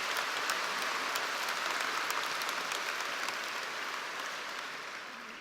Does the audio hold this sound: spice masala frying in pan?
no